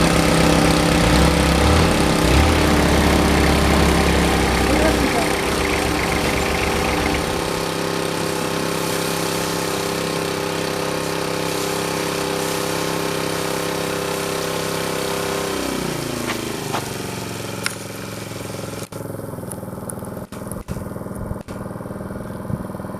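A fire truck's large diesel engine idles steadily with a deep rumble, then revs slightly and shifts pitch before settling, with a few faint clicks near the end.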